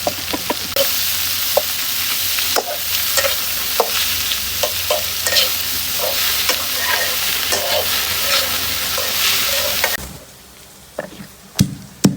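Onion and chilli fry loudly in hot oil for a spicy chicken curry, a dense continuous sizzle with repeated close scraping stirs, dropping off sharply near the end to a few quieter clacks.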